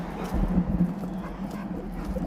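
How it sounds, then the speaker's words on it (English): Dog whining and yelping on a morning walk, a few short high cries and whimpers over outdoor background noise and scuffling. "I know, that's Molly bitching, huh? She's screaming."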